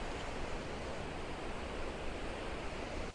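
Paddys River rushes over Paddys River Falls near Tumbarumba, NSW, a dense, steady roar of flowing water that fills the scene without pause, alone, before cutting off abruptly at the end.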